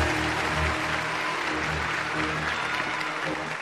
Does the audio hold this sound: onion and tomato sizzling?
no